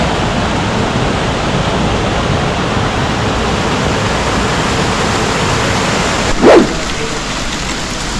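Kilangin Falls, a small waterfall, gives a constant loud rushing roar of falling water, with a brief sharp knock partway through.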